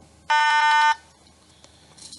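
A single electronic beep from a Lego EV3 robot, bright and steady, lasts about half a second, then fades into quiet with faint background noise.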